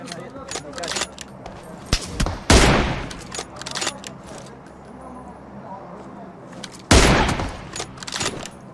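Gunfire in a battle royale video game, with bursts of shots and two heavy blasts standing out over game noise while someone talks.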